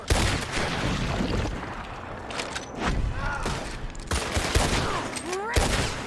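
Gunfire in Red Dead Redemption as a rope is shot, several sharp shots and bursts over busy game ambience and music, fairly loud and close.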